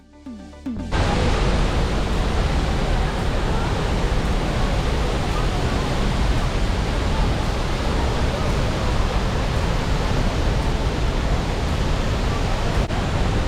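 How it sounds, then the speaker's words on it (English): La Fortuna Waterfall in Costa Rica roars as a dense, loud, steady rush of falling water heard up close from the base, starting abruptly after a brief quiet moment and continuing unbroken. "I'm at La Fortuna Waterfall."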